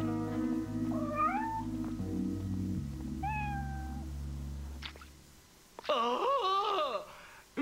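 A cartoon cat meows several times in rising, wailing calls over a low background hum, then falls quiet before letting out a final loud, drawn-out yowl.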